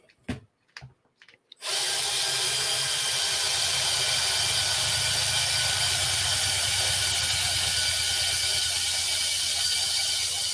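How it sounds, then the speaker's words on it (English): After a few sharp clicks, a power drill whirs steadily at high speed, loud and close, running continuously to the end. "And for those audio listeners, that is the drill."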